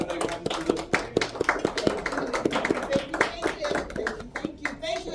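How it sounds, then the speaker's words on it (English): A small audience at a gathering claps as guests walk to the stage, with distinct individual hand claps in an uneven rhythm, moderately close, while people talk and murmur underneath. "welcome Angela and Austin, please applaud them as they come to the"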